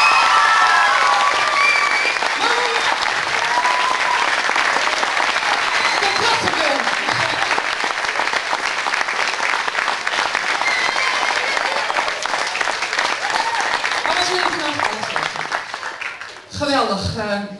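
Big, sustained applause and crowd noise from the audience at a primary school musical, dense clapping filling the room for most of the stretch before tapering off, with voices mixed in near the end.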